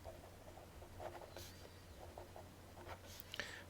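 A pen scratching out a mathematical induction formula by hand, soft continuous scribbling strokes close by with small taps and pauses, quiet against a faint hum.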